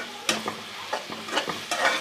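Arbi (taro) leaves fry in hot oil, with steady sizzling and several soft stirring scrapes at uneven intervals, close and moderately loud, no voices.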